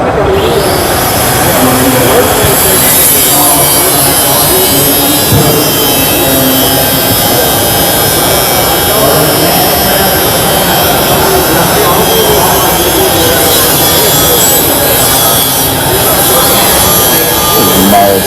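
A Metabo Speedflex power tool cuts through 3/8-16 and 1/4-20 grade 8 bolts, giving a loud, steady, harsh grinding roar that runs unbroken throughout, with a voice talking underneath.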